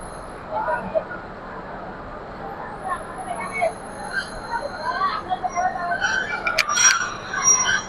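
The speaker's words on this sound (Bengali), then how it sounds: "গাইবান্ধা রেলওয়ে স্টেশনে আমরা এখন প্রবেশ করলাম" Korotoa Express passenger train rolling into Gaibandha railway station on a crowded post-Eid day, heard from inside with rumbling wheels, creaks and a sharp metallic squeal near the end, under a voice talking.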